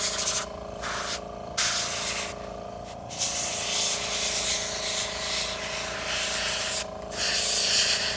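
Airbrush spraying paint onto a Reaper Bones Goremaw miniature in short and longer hissing bursts, close and fairly loud, with brief gaps between passes.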